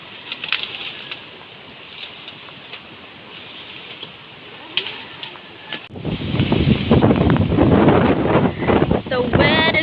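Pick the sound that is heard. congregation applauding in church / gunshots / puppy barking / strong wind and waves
strong wind and waves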